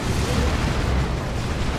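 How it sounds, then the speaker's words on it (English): Monster cannon artillery barrage explosions in the Warhammer 40k game Dawn of War 2: a continuous, dense rumble of heavy blasts, loud and sustained without a break. "The monster cannon coming in. It's a good hit. And a creeping barrage"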